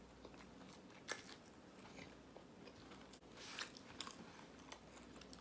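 Someone eating a turkey ham and cheese sandwich, with close, quiet bites and soft chewing crunches spread over a few seconds.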